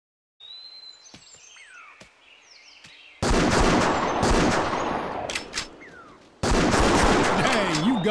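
A hunting rifle shot fires twice in Wii hunting game Buck Fever, each a loud, sudden blast that cuts into a quiet outdoor scene of birdsong and sharp clicks, then hangs as a sustained roar.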